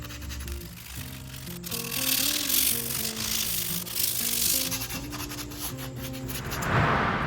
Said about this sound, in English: Now it's time to sand the entire thing down.